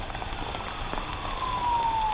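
Heavy rain pours down on a construction site with concrete footings and rebar, a dense constant hiss of drops striking surfaces, fairly close and steady, with a faint distant tone rising in the background.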